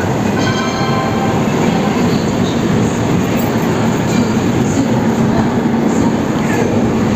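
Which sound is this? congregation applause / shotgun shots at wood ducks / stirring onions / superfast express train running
superfast express train running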